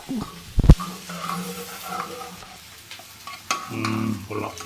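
Curry leaves in a hot-oil tempering are stirred, with a loud clatter of utensil against the pan near the start and a soft sizzle underneath. Faint background voices come and go.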